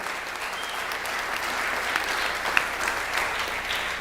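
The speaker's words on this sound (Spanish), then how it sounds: "vamos a dar un aplauso de bienvenida a toda la gente que nos está viendo" An audience at a church sermon event claps steadily in warm, continuous applause, a dense even wash of hands with no voices standing out.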